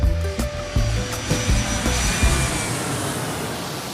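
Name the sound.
airplane taking off, sound effect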